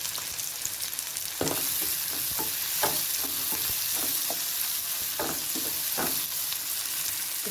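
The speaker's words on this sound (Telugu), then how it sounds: "ఉల్లిపాయలు త్వరగా వేగటం కొరకు చిటికెడు సాల్ట్ వేద్దాం." Onions frying in a pan with a pinch of salt, a steady close sizzle with repeated spatula scrapes and stirring knocks, no talking.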